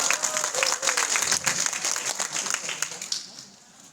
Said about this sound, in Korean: 이 상황 되면 박수 한번 쳐야 돼요.